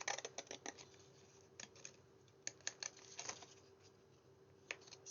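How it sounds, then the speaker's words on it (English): Scissors snipping through card while working gently around a curved corner of an Easter book card, a series of crisp, close, fairly quiet cuts in irregular bursts with short pauses between them. "I'm laying my scissors all along the edge"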